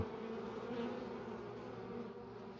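Honey bees from a colony that has just been shaken keep up a steady, dense buzzing drone. It holds at an even level throughout, with no voices.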